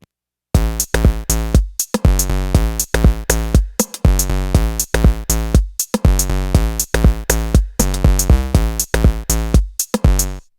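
A looping electronic groove of deep, repeated chord stabs from an Electribe ESX-1 groovebox, with short gaps between them, steady and loud, forming a hypnotic dub techno pattern.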